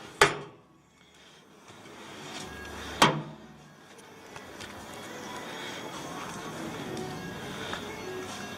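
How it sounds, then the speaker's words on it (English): Metal doors on an offset smoker are swung open, giving two sharp clanking bangs a few seconds apart, followed by quieter creaks and a faint hollow rattle. "Chimney, open doors."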